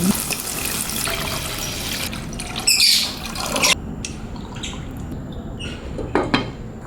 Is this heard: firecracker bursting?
no